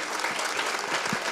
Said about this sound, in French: Avoir mobilisé BFM TV, Radio France et France Télévisions mérite vos applaudissements